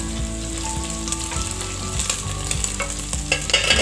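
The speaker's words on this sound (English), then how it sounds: "And then give it a little mix." Beef frying in a pot for Kenyan pilau is stirred, a loud close sizzle with rhythmic scraping and clinking of the spoon against the pot, no talk.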